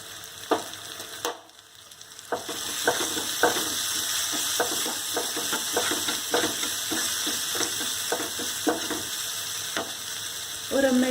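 Poha seasoning with amchur powder is stirred in a pan, producing a soft continuous sizzle broken by repeated scraping clicks of the spoon, with a brief quieter gap near the start.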